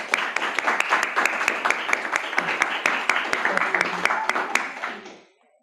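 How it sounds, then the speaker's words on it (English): Audience applause at the close of a talk, a dense burst of many hands clapping together, loud and sustained for about five seconds before tapering off and fading to silence. "Let's give her another round of applause."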